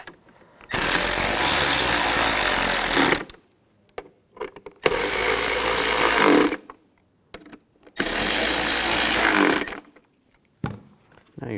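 A power tool drives down the bracket bolts on a 2015-2020 Cadillac Escalade radio control unit in three loud, close bursts of a couple of seconds each, separated by quiet pauses with light handling clicks.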